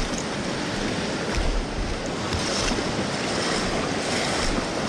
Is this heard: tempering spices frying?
no